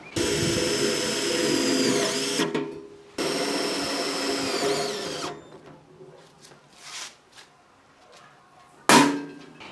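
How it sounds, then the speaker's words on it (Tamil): A power drill drives self-tapping screws into the box of a homemade electric cultivator, two longer whirring bursts followed by quieter handling sounds and one short final burst. "அந்த இடத்துல வச்சுட்டு நம்ம செல்ஃப் ஸ்க்ரூ போட்டுக்கலாம்"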